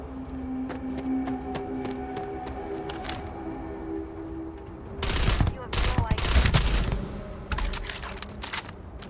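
Rapid bursts of gunfire from the space game Starfield crackle in dense, overlapping volleys, loud and close, heaviest in the second half over a steady background hum.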